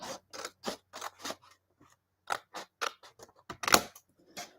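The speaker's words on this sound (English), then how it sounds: "We'll get my scissors lined up." Scissors snip through card in a quick run of crisp, close cuts, a brief pause, then another rapid series of snips ending in a louder cut and a faint final snip.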